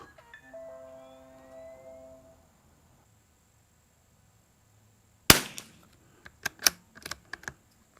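Rimfire rifle shots from a CZ452 Varmint and a Savage MKII target rifle: one sharp report, then a quick string of several more cracks close by, with brief tones and faint background before them.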